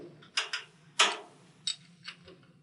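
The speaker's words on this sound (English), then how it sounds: "So we need to loosen those set screws." A 3/16 Allen wrench loosens the two set screws on a garage door torsion spring drum, giving four sharp metallic clicks and ticks, close and fairly loud, in an irregular rhythm with short pauses.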